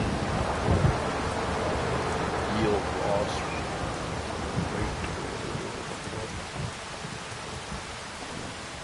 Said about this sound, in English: Harvesting crops in the rain.